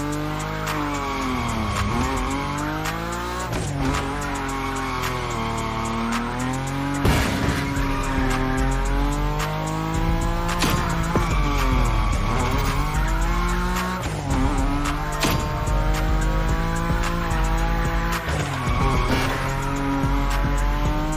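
Nissan Nismo sliding through a long drift in the racing game The Crew Motorfest: engine revs rise and fall in sweeping waves beneath steady tire squeal and intermittent skid bursts, loud and up close, with no talking.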